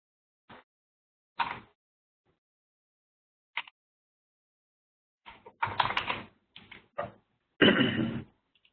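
A password goes into a computer keyboard as sparse, close key clicks, first single isolated taps, then short quick bursts of typing separated by silence.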